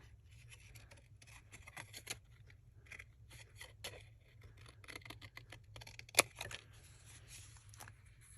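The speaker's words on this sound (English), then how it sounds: "I'm going to cut it in half." Scissors cutting a folded 6x6 sheet of paper in half, heard as soft, irregular snips and rustling paper over a low background hum, quiet and close, with one sharper click near the end and no talking.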